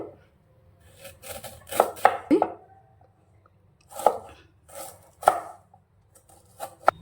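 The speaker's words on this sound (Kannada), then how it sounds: "ಸಿಪ್ಪೆ ತೆಗೆದಿರೋ ಮಾವಿನಕಾಯಿನ ಪೀಸ್ ಪೀಸಾಗಿ ಕಟ್ ಮಾಡ್ಕೊಬೇಕು." Peeled raw mango is chopped into pieces with a knife on a board, producing sharp, close, irregular knocks in small bursts separated by short quiet gaps.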